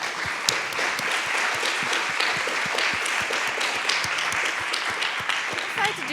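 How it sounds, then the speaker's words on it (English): Audience applause for panelists at the CHIL 2025 conference, a steady dense patter of many hands clapping throughout, fairly near, with a faint voice murmuring underneath. "let's give our panelists a round of applause."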